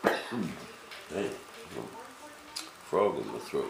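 A man clears his throat and coughs several times in short, rough bursts, close to the microphone in a workshop, with a quiet pause between the groups.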